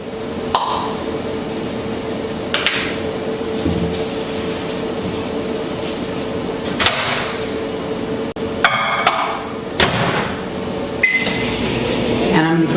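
A microwave oven melting butter, a steady hum running throughout with scattered clicks and clinks nearby, while a person talks over it.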